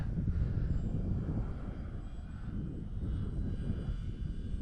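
A small propeller airplane drones overhead near a grass landing strip, a steady low engine rumble that holds evenly throughout with no talk.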